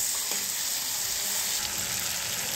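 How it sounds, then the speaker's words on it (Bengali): Spices with turmeric fry in a pan for a village-style dried fish curry, giving a constant close sizzling hiss with faint scattered crackles and no voices. "এটা একটু ভাজা ভাজা করে নেব।"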